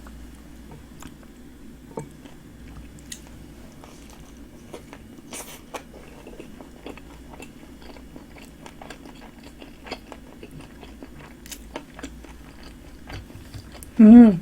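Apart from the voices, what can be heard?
eating very spicy dumplings, mukbang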